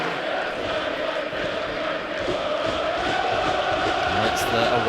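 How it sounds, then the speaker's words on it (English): Away Crystal Palace supporters chant in a stadium during a Carabao Cup match against Plymouth Argyle, a steady, loud, sustained crowd roar with massed voices throughout. "it's the away support you can hear now."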